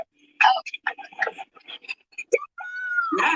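A cat meows in short, close, fairly loud calls, ending with a longer drawn-out meow, with some voices mixed in.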